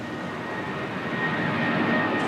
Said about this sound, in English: We're on the takeoff roll